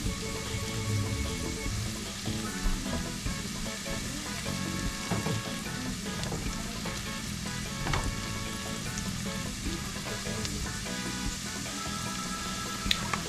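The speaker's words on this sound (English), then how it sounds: "Then add in your garlic last, and you also want to go ahead and cook this for about a minute and a half." Garlic fries in a pan while fried corn is being made, giving a steady, close, evenly loud sizzle with a few light stirring scrapes and no talking.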